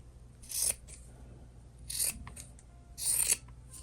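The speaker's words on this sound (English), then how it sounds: "So go to trim the corners at the ends." Fabric corners being trimmed with scissors, three distinct crisp snips spaced about a second apart, close and clear against a quiet room.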